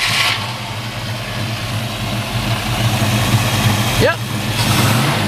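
A 1968 AMC AMX V8 with an MSD distributor, running steadily at idle with a deep, even rumble close by, rising briefly in a short rev partway through; someone speaks a single word over it.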